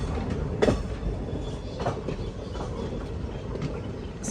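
Chemmozhi Express train running on the track, heard from inside a sleeper-class coach as a steady rumbling roll with faint, irregular clacks and rattles, moderately loud and without speech.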